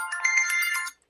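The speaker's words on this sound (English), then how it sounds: "Make sure the alarm goes off." A phone alarm ringtone plays a brief bright electronic melody, loud and close, cutting off abruptly after about a second.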